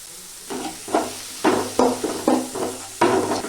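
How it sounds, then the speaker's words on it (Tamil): Onions sizzle and crackle in a hot pan, with several bursts of stirring and scraping breaking through the steady frying hiss. "வெங்காயம் வதங்கட்டும் வெங்காயம் வதங்கிருச்சு"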